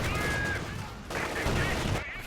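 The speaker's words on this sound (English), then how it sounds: "So yeah, more indirect fire coming in." Indirect artillery fire in the real-time strategy game Company of Heroes 2, heard as a dense run of booming impacts and crackling blasts in a 2v2 battle, with game sound effects continuing throughout.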